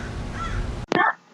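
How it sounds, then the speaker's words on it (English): A single harsh crow-like caw sounds close by after a stretch of steady background noise and ends abruptly. "the birds just start to talk"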